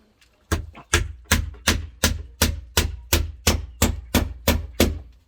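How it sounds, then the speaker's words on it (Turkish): Hammering a nail into wood while building a chicken nest box, a dozen loud, evenly spaced close blows with sharp ringing knocks. "Bir tane daha çakman lazım. Ki çünkü şuradaki çivi çıktı."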